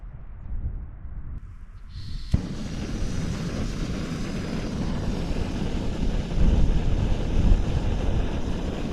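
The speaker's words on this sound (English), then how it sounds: "It's over there, it's so windy." Strong wind roars across an exposed mountain campsite with a glacier view, beginning quieter and then rising into a loud, continuous buffeting on the microphone that swells again toward the end.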